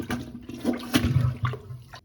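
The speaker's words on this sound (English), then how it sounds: "Empty the toilet tank by lifting up the flusher handle and hold it, lift it up until mostly all of the water goes down." Water draining from a toilet tank while the flush handle is held up, a close gurgling, sloshing rush in uneven pulses during a wax ring replacement.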